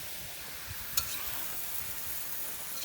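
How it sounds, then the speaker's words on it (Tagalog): Jackfruit cooking with shrimp paste being stirred in a pan, a soft continuous sizzle with faint scraping and one sharp clink of the utensil. "So, halu-haluin na natin."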